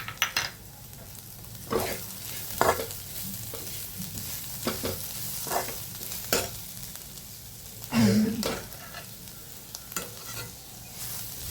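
Onion and masala stir-fried and mixed in a pan for kanda poha, with a soft background sizzle broken by intermittent spoon scrapes and clinks against the pan. No one speaks.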